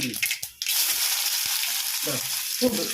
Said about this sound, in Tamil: வடை சுட்டல அந்த எண்ணெயிலே கடுகு பருப்பு போடுறேன்.